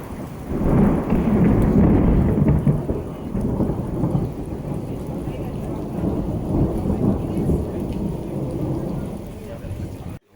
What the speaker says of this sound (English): it soon started to rain, followed by lightning and thunder